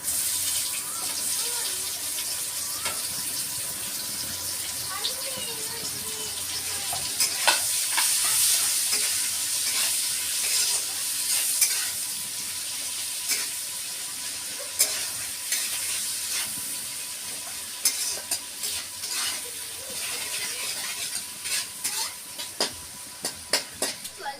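Onions frying in oil in a pan after potatoes were fried, a constant bright sizzle with intermittent scrapes and clicks of stirring that grow busier toward the end.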